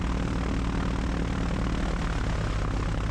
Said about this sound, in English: And feather test. Left engine first.